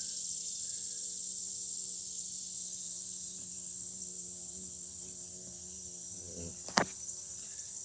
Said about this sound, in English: See, I hear bugs.